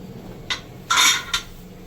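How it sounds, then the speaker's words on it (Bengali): A metal pressure cooker lid is closed over prawn malaikari: a short clink, then a longer scraping metallic grind, then another quick clink, close and fairly loud. "এবার আমি ঢাকনা বন্ধ করে দিলাম"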